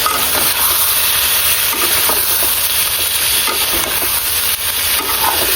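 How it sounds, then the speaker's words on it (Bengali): Fried potato and cauliflower pieces go into sizzling masala with bean seeds, giving a loud, steady, close frying hiss with soft stirring scrapes throughout and no talking. "এখন আমি এই যে এদিকে আলু ফুলকপি ভেজে রেখেছি সেগুলো দিয়ে দিব।"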